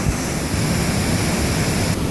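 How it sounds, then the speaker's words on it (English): A steady, broad roar of rushing water from a waterfall on Yosemite's Mist Trail fills the air, constant and fairly loud, like falling water nearby with no voices. "Oh, another waterfall."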